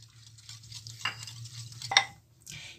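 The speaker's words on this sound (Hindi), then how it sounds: "दही को मैं अच्छे से बीट करूंगी पहले, मतलब कि अच्छे से मिक्स करूंगी" Curd with green chilli, salt and cumin is beaten in a bowl, heard as a few soft wet swishes and one sharper clink of the spoon against the bowl over a low steady hum.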